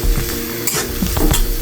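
Shrimp sizzle in a hot pan with whole garlic, a steady loud frying hiss broken by a few scraping stirs, with no voices.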